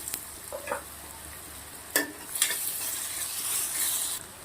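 Thinly sliced dried onion frying in a pan with dried red chillies, asafoetida and chopped garlic, a faint steady sizzle with a few sharp stirring scrapes near the middle.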